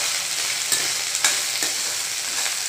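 Cut okra, or lady fingers, frying in a pan, a loud steady hiss of sizzling oil with a few brief scraping stirs, no voices present.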